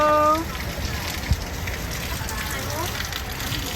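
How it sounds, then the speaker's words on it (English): Steady outdoor rain hiss with soft patter throughout in Bohol, Philippines, fairly close, with a brief low thump partway through. "Still raining, but there's a"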